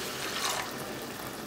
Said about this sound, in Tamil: இப்போ இது கூட 2 கிளாஸ் தண்ணி சேர்த்துக்கறேன்.